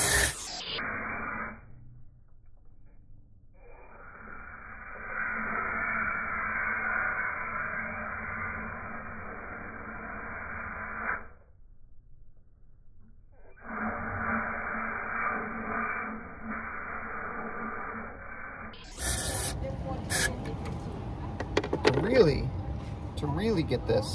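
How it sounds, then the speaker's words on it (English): Chemical cleaner hisses in long, steady bursts as it is sprayed into the open throttle body of a Chrysler Pacifica 3.6L Pentastar, with short pauses between sprays and clattering handling noise and talk at the end. "I'm actually gonna push the throttle body open and spray in."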